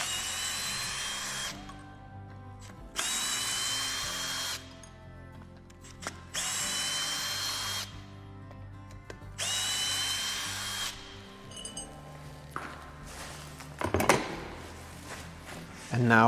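A power drill backs screws out of a woodturning lathe setup, several whirring bursts of a few seconds each separated by pauses, with handling clatter and a short clunk near the end.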